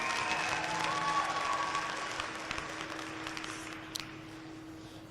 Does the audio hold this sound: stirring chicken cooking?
no